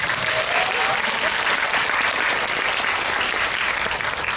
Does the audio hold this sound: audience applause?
yes